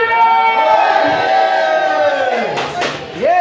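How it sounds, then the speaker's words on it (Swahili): A crowd cheers and ululates in celebration, loud sustained high trilling voices with whoops, the ululation rising and bending near the end. "Shangwe na vigelegele."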